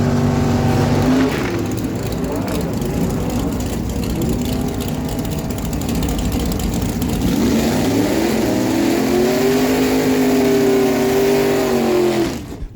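Drag racing cars, a Chevy Roadster and a Camaro, making a pass at a dragway during NHRA day, a loud sustained engine roar that rises and shifts pitch as they run down the strip.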